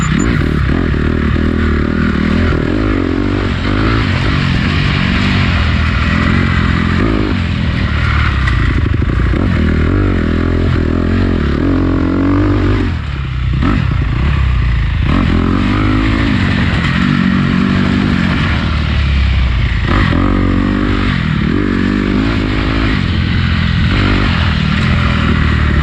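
Honda CRF four-stroke dirt bike racing along a trail in a time trial, its engine droning loud and close throughout with revs rising and falling, plus clatter and scraping from the rough ground.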